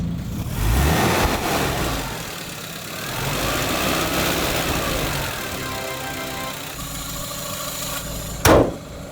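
An RV engine idles with a low, steady rumble and then rises briefly as gas is applied, ending in a sharp, loud burst near the close.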